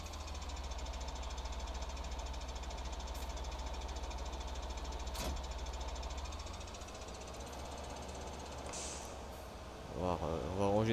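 Tractor engine in Farming Simulator 19 running steadily at a constant low drone for most of the clip, then easing off near the end as another faint mechanical sound rises.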